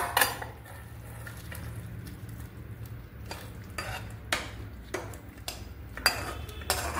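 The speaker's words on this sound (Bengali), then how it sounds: "এবার আমি একটা বাউলের মধ্যে এটা নামিয়ে দিচ্ছি।" Cooked potato and ridge gourd curry is spooned from a pan into a bowl, with scattered clinks and scrapes of a metal spoon against cookware over a low background hum, fairly quiet and close.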